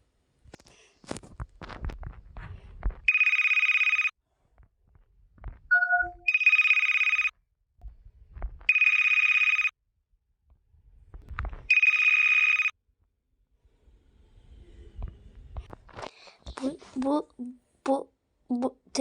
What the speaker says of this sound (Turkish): Bir dakika benim telefonum mu çalıyor?